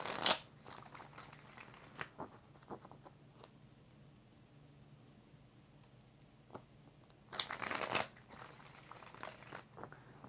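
Tarot cards are shuffled by hand, a soft riffle at the start and another near the end, with faint rustling and handling in between; quiet and close.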